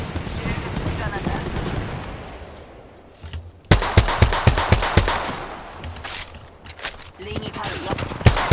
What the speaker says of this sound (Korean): 멍청이들이 날 쏘고 있다